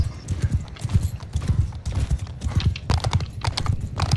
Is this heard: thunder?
no